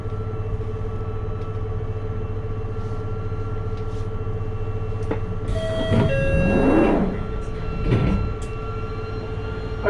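A London Underground Northern Line train hums and whines as it pulls into a station, its motor tones rising and falling over a steady station drone, with brief brake squeals.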